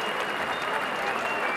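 Crowd applause at a boxing fight night, a steady wash of clapping and cheering throughout, fairly faint and distant, with no clear talk on top.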